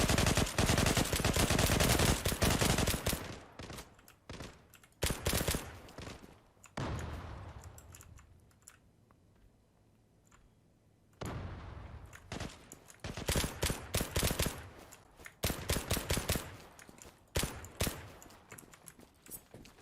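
Rapid bursts of automatic gunfire from the online shooter game Zula, loud and dense in two long stretches separated by a quieter lull with scattered shots, with no talking.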